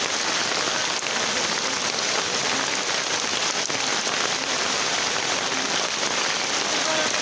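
Heavy rain falls at Gouripur railway station, a dense, continuous hiss of drops drumming on roofs and surfaces that holds at the same loud level from start to finish.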